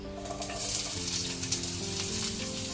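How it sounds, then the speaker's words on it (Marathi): Onion and capsicum cubes stir-fry over high heat, making a continuous loud sizzle with the soft rustle of tossing and stirring, close up and with no voices. "इथे मी फक्त 2च भाज्या घेत आहेत, ह्या आपण स्टर फ्राय करून घेणार आहोत।"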